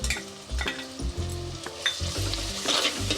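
Chopped tomato and ginger-garlic paste frying in a pan, a busy sizzle punctuated by repeated scraping stirs and spatula knocks against the pan, close and steady with no voices.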